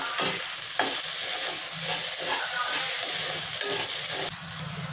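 Ladies finger (okra) fry with spices stirred in a pan, a continuous soft sizzle with intermittent scraping strokes, close and fairly loud.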